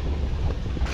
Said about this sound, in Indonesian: Asli kenceng banget tarikannya ini. Anginnya badai brutal.